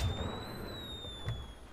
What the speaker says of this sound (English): Why are you firing a firework?